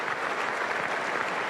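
Dense, steady applause from a large cricket crowd at Adelaide during the 2006-07 Ashes Test, greeting Michael Clarke's century in a continuous roar of clapping with no break.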